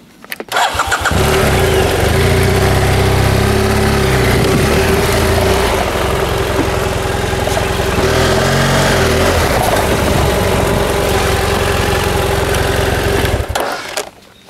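An offroad motorcycle on a trail runs loud and close through a u-turn, its engine droning steadily with slight rises and dips in revs before cutting off near the end.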